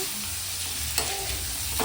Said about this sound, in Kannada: ಲೋ ಫ್ಲೇಮಲ್ಲಿ ಇಟ್ಕೊಂಡು ಫ್ರೈ ಮಾಡ್ತಾ ಇದ್ದೀನಿ ನೋಡ್ಬೋದು